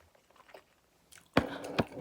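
Barley rice eaten with tomatoes, chili pepper and chicken breast, heard as a few close, soft crunching bites after a near-silent start, louder and wetter toward the end.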